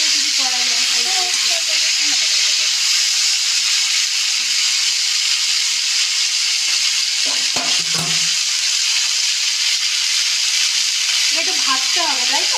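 Loud, continuous frying hiss from a pan, close and dense throughout, with voices talking briefly underneath near the start, middle and end.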